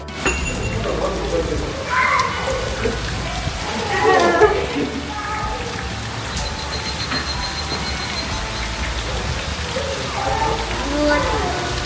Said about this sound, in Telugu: లయన్కి ఫీడ్ చేస్తుండగానే వర్షం హెవీ అయిపోయింది